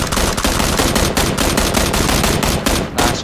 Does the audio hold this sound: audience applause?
no